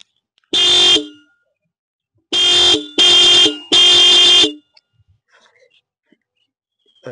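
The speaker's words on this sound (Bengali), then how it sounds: "এবার তোমাদের টিভিএস অ্যাপাচির 4ভির একবার হর্নের আওয়াজটা একবার শুনিয়ে দিই তোমাদের।" A TVS Apache 160 4V motorcycle sounds its horn, a single loud, close blast followed by three more blasts in quick succession, then near silence.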